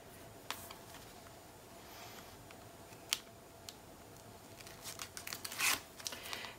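Scissors trimming paper for a Stamperia card project, sparse quiet snips and small crisp cuts scattered at intervals, with a cluster of rustling paper handling toward the end.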